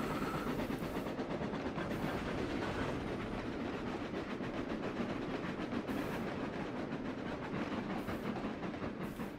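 A freight train in the simulation game Trainz rumbles steadily over the points, with a continuous rolling drone and repeated clicking of wheels crossing the track joints, heard alone with no talking.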